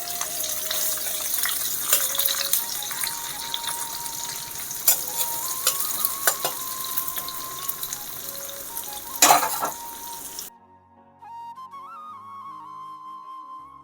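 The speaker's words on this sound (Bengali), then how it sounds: "পেঁয়াজটাকে অল্প লাল লাল করে ভাজা করব।" Chopped onion fries in hot oil for a fish and poppy-seed curry, giving a steady loud sizzle with stirring clatter and a sharp spike, then cutting to quieter running water near the end.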